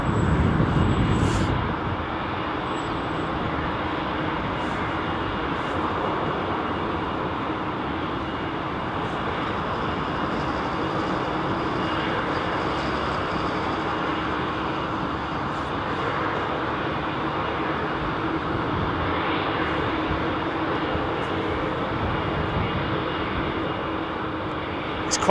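Heavy aircraft engines roar steadily near the runway at London Heathrow Airport, a loud continuous jet rumble that holds for the whole stretch with no pauses.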